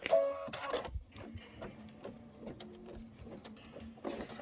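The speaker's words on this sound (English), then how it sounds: "we're going to do the satin stitching around the boot" Sewing machine running a satin stitch around a boot appliqué, a steady fast mechanical whirr with rhythmic needle clatter that pulses and pauses across the span, fairly quiet and close.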